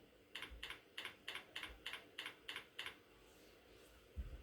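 Someone types a short command on a computer keyboard: a quick run of about nine evenly spaced keystrokes, then a pause and a single heavier press of the enter key, close and fairly quiet, with no talk.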